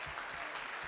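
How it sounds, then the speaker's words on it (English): Applause from an awards ceremony audience, a steady wash of many hands clapping through a brief moment, fairly faint and continuous. "just one more round of applause, first of all, for Dr. Beverly Key."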